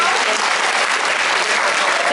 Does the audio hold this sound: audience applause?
yes